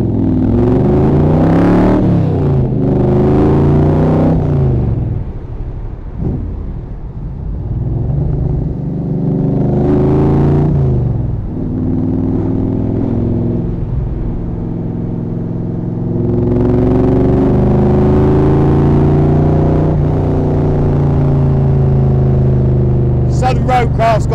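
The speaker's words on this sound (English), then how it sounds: "Sound of a Rover V8 with the right side pipes on is excellent as well." A Southern Roadcraft Cobra replica with a Rover V8, side pipes and Jaguar running gear is driven, its deep burbling exhaust rumbling steadily and swelling several times as the engine is revved.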